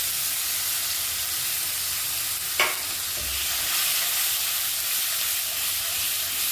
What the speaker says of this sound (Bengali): মশলাটা এবার ভালো করে কষে নেব